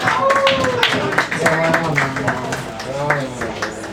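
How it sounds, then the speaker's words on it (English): An audience at a poetry reading applauds a poet taking the stage, scattered claps mixed with overlapping voices and chatter that carry on throughout. "let's get Thomas Christopher Eliot. Big round of applause"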